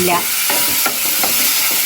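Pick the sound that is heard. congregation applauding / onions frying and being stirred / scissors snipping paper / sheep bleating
onions frying and being stirred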